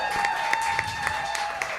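An audience at a coffee house concert applauds the musicians: steady, dense clapping with a few sharper individual claps standing out. A faint tone runs underneath.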